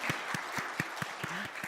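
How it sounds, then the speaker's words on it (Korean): A church congregation gives an elder a round of applause, with about eight distinct, evenly spaced claps sounding at a moderate distance in a quiet room. "우리 박성길 장로님 박수 한번 드릴까요?"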